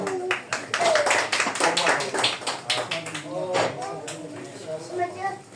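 Crowd applause, a dense patter of many hands clapping steadily with voices talking over it.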